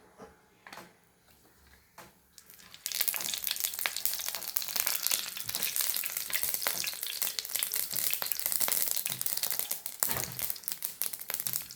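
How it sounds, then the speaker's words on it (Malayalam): Mustard seeds crackle and splutter in hot coconut oil, starting quiet for about three seconds before a loud, dense sizzle with sharp pops sets in and carries on steadily, close by and alone without talk. "എണ്ണ ഞാൻ വെളിച്ചെണ്ണ ഒഴിച്ചിട്ടുണ്ട് കടുകിടുവാണ്"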